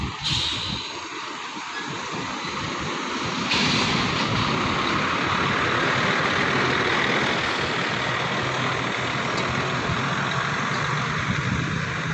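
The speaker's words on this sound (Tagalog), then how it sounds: "Yung mga truck na to." Truck engines run steadily outdoors on a hot, windy street, a continuous broad rumble that swells slightly louder after a few seconds and holds, with wind noise mixed in and no talk.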